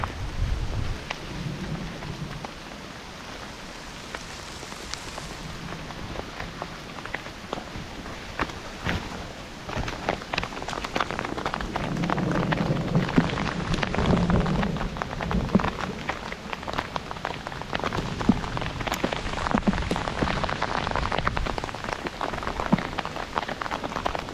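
Heavy rain and hail pelt the ground and rain gear on a forested mountain section of the Colorado Trail, dense crackling impacts building over time, with low thunder rumbling beneath.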